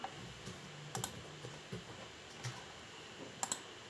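Sparse, quiet computer-keyboard typing: a few isolated clicks and short bursts of keystrokes spread across a near-silent room, with no voices.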